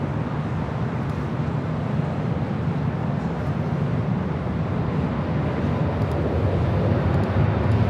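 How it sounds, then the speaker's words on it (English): Eva Air Cargo flight 619 jet taking off from runway 25 right at Los Angeles International Airport, a steady broad engine roar that holds loud and continuous throughout, with no voices. "Eva Air Cargo flight 619, looking like it's going to take off on the south side on 25 right"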